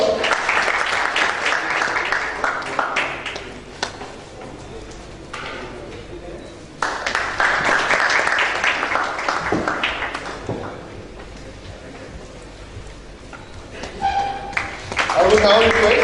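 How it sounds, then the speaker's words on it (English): Audience applause at the eHaryana 2014 government conference session as speakers receive mementos, a dense sustained wash of clapping that swells, dips and returns across the stretch. "Can we have a huge round of applause?"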